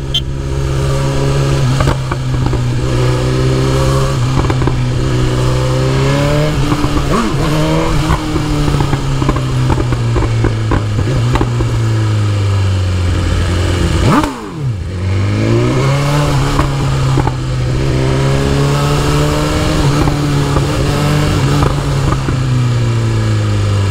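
A BMW S1000RR sport motorcycle engine revving loudly and close for a sustained stretch, the pitch climbing and falling through repeated throttle blips, with one sharp dip in the middle and no talking.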